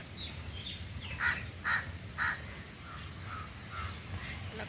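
Several crows caw in a short series of three harsh calls, then fainter caws follow, heard at a distance over steady outdoor background noise.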